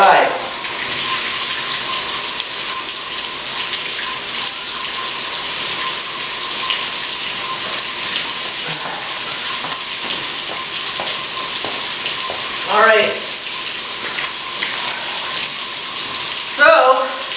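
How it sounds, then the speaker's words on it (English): Water from a hose-fed fire hydrant sprays in a loud, continuous hissing rush, with a few brief knocks and a short spoken phrase. "we have an incredible spray of water coming from this fire hydrant"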